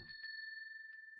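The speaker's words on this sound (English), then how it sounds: "Why am I ringing my own doorbell?" Doorbell ringing inside a house in the video game Amayado Bus Stop, a single clear sustained chime tone that holds steady and fades slightly, with a brief voice at the start.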